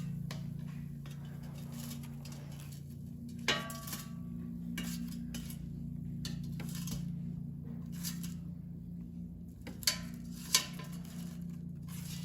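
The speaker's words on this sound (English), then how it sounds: "let's take out the air fryer basket and let's carefully flip the hash browns over so they cook evenly" Trader Joe's hash browns being flipped in an air fryer basket, light scattered clicks and metallic taps with a few sharper clinks over the steady low hum of the appliance, close and fairly quiet, no talk.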